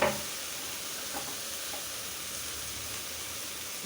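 Rita fish dropped into fried spice masala in a hot pan, opening with a brief clatter and then a steady, close, even sizzle that continues to the end.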